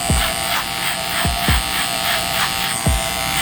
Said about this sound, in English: So this is just a 0, just the clipper all the way closed.